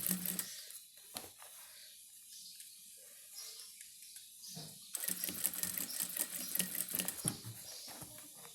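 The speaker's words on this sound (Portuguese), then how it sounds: "E vem costurando." A sewing machine stitches a fabric wallet in short bursts separated by quiet pauses, then runs in a denser, faster burst near the end, heard close and fairly faint.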